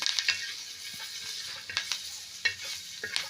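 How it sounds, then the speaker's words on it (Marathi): Green chillies roasting in a pan for a rustic drumstick vegetable dish give a steady close sizzle, with several sharp scraping stir strokes and light clinks breaking through at irregular intervals. "अशा पद्धतीने मिरच्या बुजून घ्यायच्या आहे"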